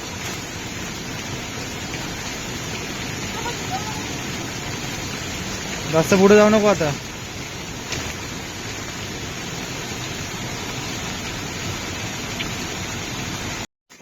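Heavy monsoon rainwater rushes past a village house through a gap in front of it, a steady broadband wash of flowing water and rain throughout, with people talking over it and a brief louder burst of voice midway.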